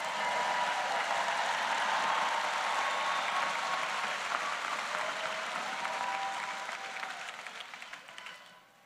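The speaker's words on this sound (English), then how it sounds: "And give yourself a round of applause." A large convocation crowd at a Rutgers School of Social Work ceremony applauds in a steady, dense wash of clapping that holds for several seconds, then slowly fades near the end.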